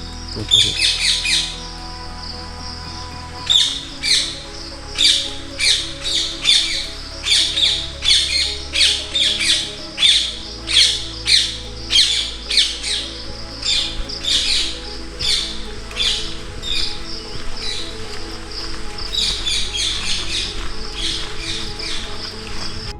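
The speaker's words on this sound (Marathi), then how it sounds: "इथले पक्ष्यांचे आवाज ऐका फक्त" Birds squawk repeatedly in quick bursts in a quiet forest, loud and close, with quieter chirps and a low rumbling background between calls.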